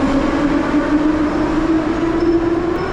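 A Tbilisi metro train runs underground with a loud, steady rumble and a sustained droning whine, close and with no voices.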